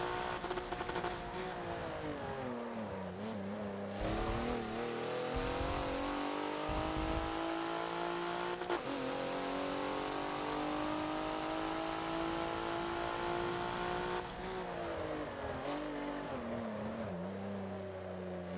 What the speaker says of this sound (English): Okay, leave it in third. Leave it in third. Bounce that rev limiter.